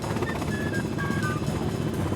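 A helicopter flies steadily overhead, its dense rotor and engine roar holding a constant, moderately loud level for the full couple of seconds with no talking.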